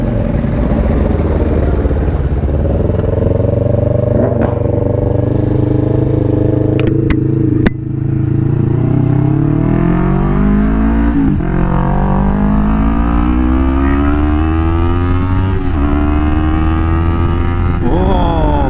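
A Yamaha R3 motorcycle with a full-system aftermarket Devil exhaust idles and revs repeatedly, its deep burbling tone rising and falling with each throttle blip, close by.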